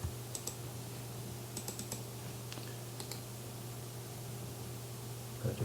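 Keys pressed on a computer keyboard while stepping through code, a few light scattered clicks over a quiet room hum, with a small burst near the end.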